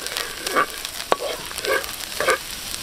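Ginger sautés in a pan over charcoal embers, with a soft sizzle and several short scraping stirs of a utensil at a steady pace, close by and with no talking.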